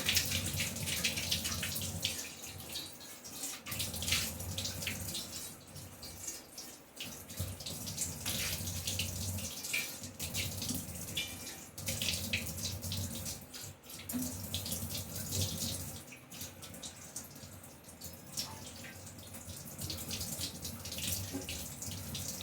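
A household tap runs steadily into a sink while plates and a face are washed, a continuous close rush of water with small splashing variations throughout.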